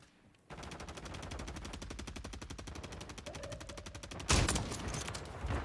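Rapid, steady automatic gunfire from a Warzone 3 match rattles on without a pause, loud and close, and a heavier burst of shots breaks in near the end.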